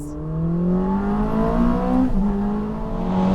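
A Ferrari 849 Testarossa Spider's twin-turbo V8 revs loudly and close, a strong rising engine note that holds, dips briefly and climbs again.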